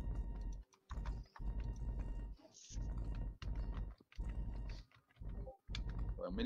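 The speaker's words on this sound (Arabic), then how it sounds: "ومين اللي بياكل على الكيبورد؟" Computer keyboard typed on hard during an online domino game stream, sounding as dense bursts of loud clattering keystrokes separated by short pauses, close and fairly loud.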